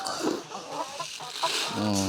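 Young pullet chickens cluck and murmur close by in a steady, busy chorus, with a few louder calls rising near the end.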